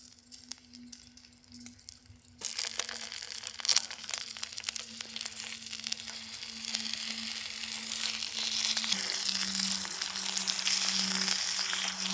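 Lamb chops sizzle in a pan over a firebox, starting abruptly as a loud, dense, crackling hiss that continues steadily over a low background hum.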